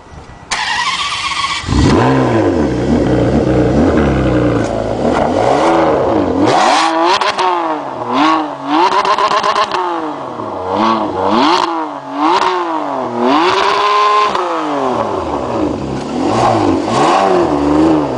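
Ferrari 599 GTB V12 fires up with a sharp starter catch, then revs hard again and again, the engine note climbing and dropping in loud, close, rapid blips that run through the whole stretch.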